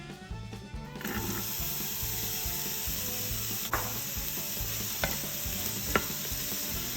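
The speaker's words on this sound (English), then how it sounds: "We'll continue stirring and sauteing these onions until they're a bit translucent and they start to brown" Onions sauté in oil inside an Instant Pot, sizzling steadily while a spatula stirs with rhythmic scraping and a few sharp knocks against the pot.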